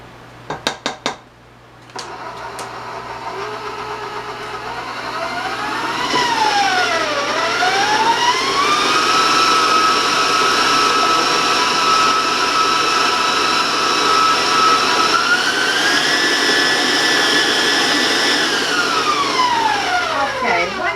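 An electric mixer creams strawberry cake batter in a bowl, its motor whining steadily and loudly and shifting pitch up and down as the speed changes, with a few clinks against the bowl at the start.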